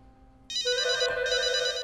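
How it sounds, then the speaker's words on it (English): Old-style telephone bell ringing loudly and steadily after a quiet start, a bright continuous trill close by with faint background sound underneath. "A phone call."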